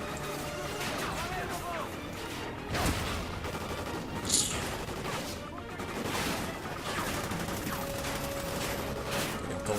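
Gunfire in the shooter video game Call of Duty Ghosts, dense continuous bursts of rifle and machine-gun fire with crashes and impacts filling the whole stretch, loud and busy, with someone talking over it at times.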